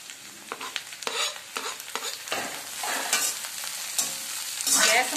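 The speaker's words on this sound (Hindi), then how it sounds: "अब इसमें हम डालेंगे पत्ता गोभी अपनी।" Cabbage is stir-fried over high heat in a pan with onions for paneer noodles, giving a steady sizzle broken by repeated scraping and tossing strokes of a spatula, close and without talk.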